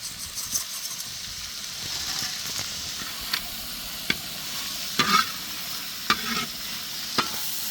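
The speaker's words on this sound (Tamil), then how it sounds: "வெங்காயம் நல்லா வதங்கி வரணுங்க" Onions frying in a pan with peppercorns, cinnamon pieces and a cardamom pod for a dhaba-style Pahadi chicken gravy. A steady sizzle runs throughout, with scattered scrapes and clinks of stirring and no talking.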